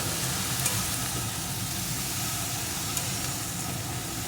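Eggplant pieces frying in a little oil for neem begun, stirred in the pan, give a steady, close hiss and sizzle with faint scraping that holds evenly throughout.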